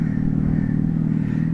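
A Revolt RV 400 electric bike plays an artificial engine sound through its speaker, a short, loud, steady motorcycle-like hum with a clattering edge, heard alone.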